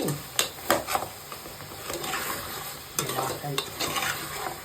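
Mutton kurma stirred in a pan: a spoon scrapes and turns the thick mixture in a few distinct strokes over a steady low sizzle, close and clear with no talking.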